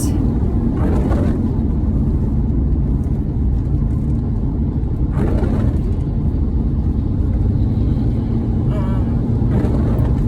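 Steady low rumble and road noise inside a moving car, loud and continuous, with brief bursts of louder hiss as the car drives along.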